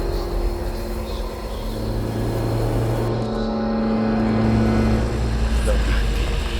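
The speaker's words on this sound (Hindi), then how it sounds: "वो गाड़ी तेज स्पीड से भगाता है।" A cartoon car speeding away gives a steady engine drone with sustained low tonal hum, continuous for several seconds under a faint background wash.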